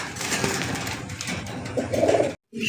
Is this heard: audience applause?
no